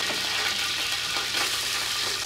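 Chopped onion and a garlic clove frying in rendered meat fat in a pan, a dense steady sizzle and crackle heard up close without pause.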